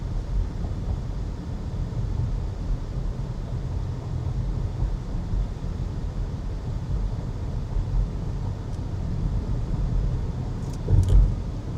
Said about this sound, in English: okay, there are more cars than I thought.